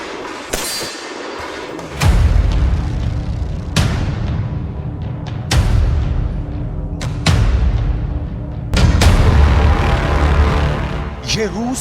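Children firing AK-47 assault rifles at a firing range in North Ossetia, Russia: about five loud single shots spaced a second or two apart, each with a long echoing tail, under a narrating voice.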